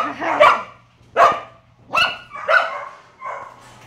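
A dog at an animal shelter barks five times in a steady series, close and loud, with a faint low hum underneath.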